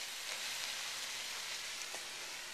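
Steady, crackling sizzle of mushrooms frying in a pan, soft and continuous with faint pops throughout.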